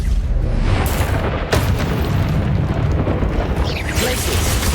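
The Bombarda spell goes off in the video game Hogwarts Legacy, with a loud, rumbling blast and a sharp crack partway through, all inside a dense wall of combat noise.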